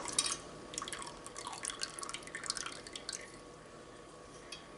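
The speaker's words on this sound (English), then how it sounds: "Lemon curd is going into a bowl." Thick homemade lemon curd pouring from a pan into a bowl, with faint, soft drips and plops scattered irregularly over a quiet kitchen background.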